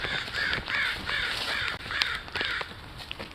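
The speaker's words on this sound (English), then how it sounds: "oh, those crows are already over here." Several crows caw repeatedly in a steady series of harsh calls, fairly close and loud against a light outdoor background, with no talking.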